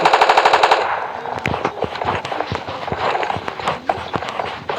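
A loud, rapid burst of automatic gunfire in PUBG Mobile Lite opens the sequence, then gives way to scattered single shots and impact cracks over a busy game soundscape.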